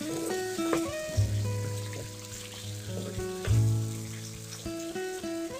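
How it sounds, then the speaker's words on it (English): Tomatoes go into a hot pan for butter chicken and sizzle loudly and steadily, with stirring scrapes and a melodic tune playing underneath. "Now we're going to add the tomatoes, or you can add the tomato puree also if you want."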